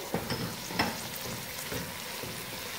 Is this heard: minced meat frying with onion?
yes